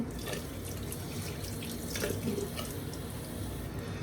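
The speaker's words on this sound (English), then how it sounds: "I'm gonna go ahead and rinse off a little bit, clean up" Water runs steadily from a tap into a sink during rinsing, a continuous close splashing stream with faint dripping, no voices.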